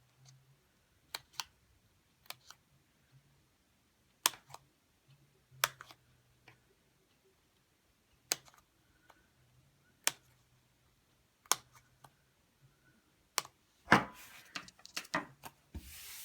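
Scissors snip through paper planner stickers in a quiet room, a series of short, sharp separate cuts spaced about a second apart, ending in a brief burst of rustling paper.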